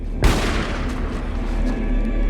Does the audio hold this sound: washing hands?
no